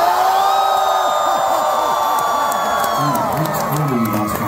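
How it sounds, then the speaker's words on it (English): A large concert crowd cheers and whoops continuously at a live show, loud and close, with voices shouting over the roar throughout. "Wait, there's a whole crowd waiting."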